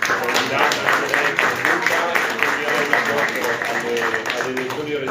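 A crowd applauding at an outdoor 25 April festival in Settimo di Pescantina, sustained clapping from many people under amplified voices and background chatter.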